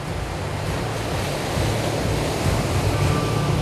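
Rough Indian Ocean surf churns in a steady, dense roar, heavy breaking waves blended with wind buffeting the microphone, loud and close with no voices.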